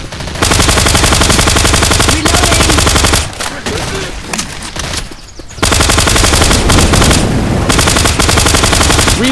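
Rapid sustained automatic fire from a suppressed HK G36A3 rifle in the video game Left 4 Dead 2, loud and continuous bursts with a short pause in the middle before firing resumes.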